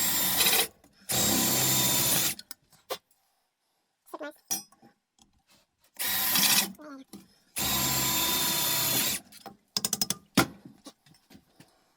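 A power drill boring starting holes in metal for a Pedaltrain JR pedalboard adaptation, whining loud and close in two long sustained bursts, separated by clinks, handling noises and short pauses.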